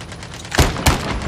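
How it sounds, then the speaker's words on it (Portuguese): Two sharp gunshots ring out close together in Call of Duty Mobile battle royale, each a loud broadband crack with a low boom, alone without talk. "Dei tiro, dei tiro."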